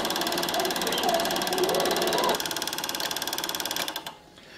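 Bell & Howell Super 8 sound projector, a Japanese-made machine about 40 years old, runs film with a steady rapid mechanical chatter, close and loud, then winds down and stops near the end.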